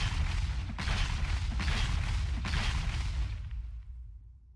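Repeated grenade explosions from Deadpool's Slam Jam ability in a hero video game, three heavy booming blasts at a steady rhythm with a rumbling tail that fades out.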